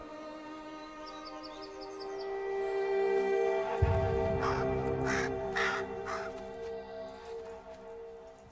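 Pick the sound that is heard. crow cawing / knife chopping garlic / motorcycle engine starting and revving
crow cawing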